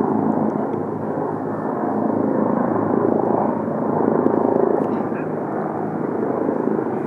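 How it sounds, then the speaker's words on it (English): A firefighting helicopter works over the Topanga Canyon wildfire during a flare-up, its loud continuous rotor and engine roar swelling slightly as it passes, while voices are heard nearby. "There's another copter."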